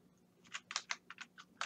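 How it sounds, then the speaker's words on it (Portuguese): Quick keystrokes on a computer keyboard as a command is typed, about seven distinct clicks in an uneven burst, fairly quiet and close with no voices. "eu vou digitar aqui"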